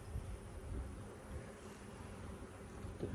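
A dense, steady swarm hum of honeybees fills an open hive box packed with bees during a transfer from five-frame splits to ten-frame boxes, low droning continuous and close throughout.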